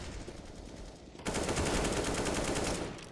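Rapid automatic gunfire in a CS:GO grand final match, a quieter stretch giving way after about a second to a loud, sustained burst of shots that fades slightly at the end.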